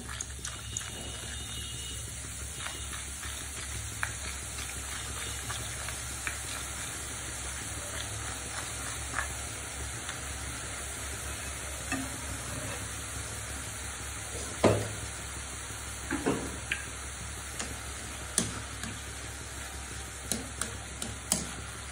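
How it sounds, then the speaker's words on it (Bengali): Drops of boondi batter pressed through a perforated ladle fall into hot oil and fry with a soft, continuous sizzle. A few sharp clinks and taps of the utensil break through now and then, and no voices are heard. "বুন্দিগুলো এক এক করে ভেজে নেব।"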